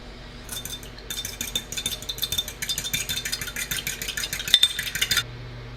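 A utensil whisks egg wash in a bowl, a quick run of light metallic clinks and taps against the side that starts abruptly and stops a few seconds later.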